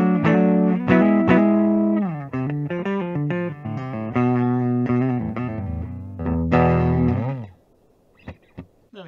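A 1991 Gibson Les Paul Custom electric guitar in natural finish, played clean through the middle pickup position, rings out close and loud with strummed chords and single notes before fading to near silence.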